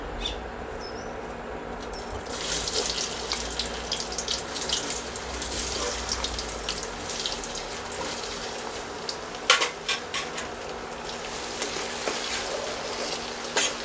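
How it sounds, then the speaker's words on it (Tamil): Cut potatoes hiss and sizzle steadily in hot oil, a dense crackling wash with a sharper pop partway through. "இப்போ நறுக்கி வச்சுருக்கிற உருளைக்கிழங்கை இதில் பொரிச்சு எடுக்கலாம்"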